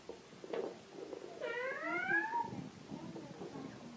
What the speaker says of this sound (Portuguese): Samuel, tem um gato no quarto do B, Sammy.